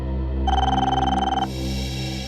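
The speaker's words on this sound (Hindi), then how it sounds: "मैं लूंगा फोन।" A telephone rings indoors in a crime drama scene, a single electronic trilling burst of about a second under a steady background hum, then cutting off.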